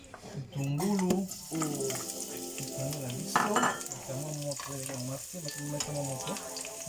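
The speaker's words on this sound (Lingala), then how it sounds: "to sala bitungulu na ozoboka na kati ya mafuta na yo bitungulu" Onions frying in oil in a pan, a steady sizzle with occasional stirring and utensil clinks, heard close under a voice talking throughout.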